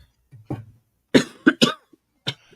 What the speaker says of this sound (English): She's coughing, so she didn't respond.